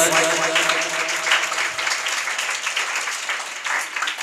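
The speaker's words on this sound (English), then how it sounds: "Keep clapping, boys and girls." Students at a Teacher's Appreciation Day celebration at an English academy clap steadily and fairly loudly throughout, with a brief hum of voices early on.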